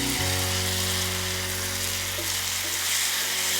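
Chopped tomatoes sizzle in oil in a frying pan over a medium flame. A steady, close, continuous sizzle runs alone throughout, with a low constant hum underneath.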